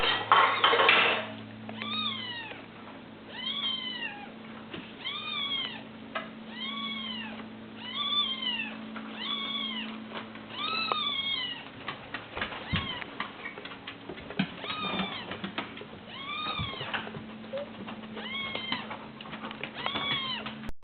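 Cartoon cats meow over and over in an animation, a steady string of clear, close meows repeating every second or so over a low background hum.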